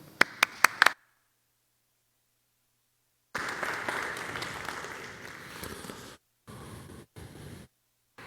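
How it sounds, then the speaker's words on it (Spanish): Conference audience applauding, a few sharp claps at the start, then after a pause a broad burst of clapping from the hall that breaks off in short gaps. "Un aplauso para todos."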